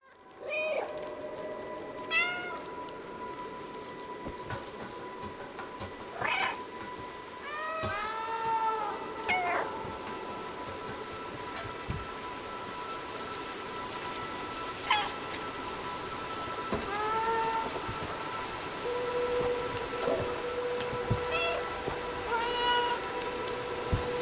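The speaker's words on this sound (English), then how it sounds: "Sometimes you just need a curious cat, a mysterious city, and a dedicated button for meowing." A cat meowing in a video game about a curious cat exploring a mysterious city, with repeated short meows scattered throughout over a soft patter of rain and gentle background music.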